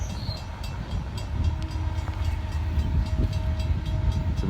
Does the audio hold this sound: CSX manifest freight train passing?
yes